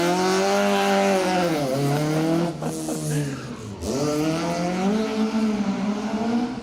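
A rally car on a tarmac asphalt stage roars past loudly, its engine note sweeping up and down through gear changes and braking, with a brief tire squeal mid-run and no voices.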